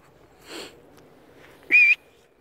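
A person whistles to horses: a soft breathy note first, then one short, clear, sharp whistle, close by in a quiet setting.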